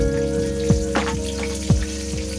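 Green chilies frying in oil over a slow flame, a soft steady sizzle with a few sharp pops and crackles standing out, close and low in level, with a faint tonal hum underneath and no talk.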